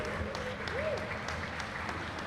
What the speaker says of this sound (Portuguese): Palmas para o nosso amigo.